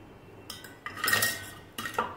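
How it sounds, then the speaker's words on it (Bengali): Metal utensil scraping and clinking against a pan while lifting fried chops out of hot oil, with a few brief, close clatters and no talk. "বন্ধুরা এবারে আমি চপগুলো ছেঁকে নেব"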